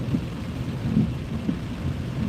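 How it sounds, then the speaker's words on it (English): Steady rain pattering on a car windshield, a soft continuous wash with occasional heavier drops, no voices. "it is raining like it ain't nobody's business"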